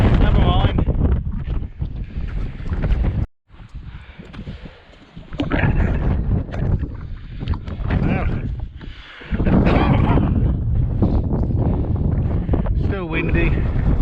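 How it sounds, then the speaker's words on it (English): Wind buffets a microphone on a rocky hilltop edge at Ramshaw Rocks, loud rumbling gusts with a brief lull near the middle, while someone talks over it. "Windy,"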